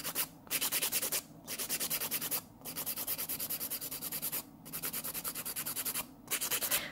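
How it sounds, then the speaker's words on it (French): A nail file rasps back and forth across fingernails before gel application, steady rhythmic scraping strokes in short runs separated by brief pauses, close and clear. "ça va être de limer."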